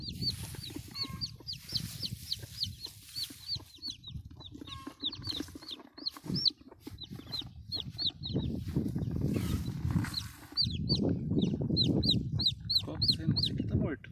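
Hen clucking repeatedly beside a nest of eggs and newly hatched chicks, with high chick peeps chirping steadily throughout, close and clear, while people talk quietly in the background.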